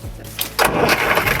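A gasoline car engine is started with a key: a brief cranking churn, then the engine catches and settles into a loud, close, running rumble.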